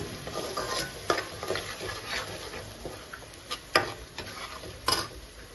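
Spinach paste blended with green chillies is stirred in a cooking pan for a paneer palak curry, giving soft scraping strokes with several sharp clinks of the spoon against the pan. No one speaks.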